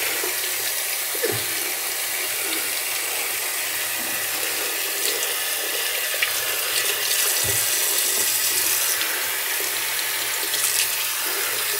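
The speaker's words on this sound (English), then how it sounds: "Let that dry off a bit and rinse out my brush." Tap water runs steadily into a sink while a paintbrush is rinsed under it, a continuous close hiss and splatter with faint knocks at a few points and no voices.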